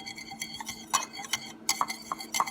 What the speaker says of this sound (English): black pepper, garlic powder, onion powder, thyme, spicy paprika, and we're just gonna blend that all together